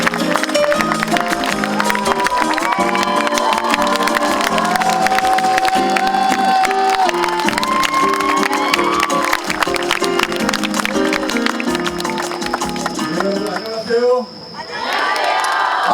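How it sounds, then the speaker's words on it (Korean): A large outdoor crowd at a concert with a talk segment claps and cheers loudly and continuously, with whoops and shouts over sustained applause and background music, tapering off near the end. "여러분 뜨거운 박수 부탁드리겠습니다."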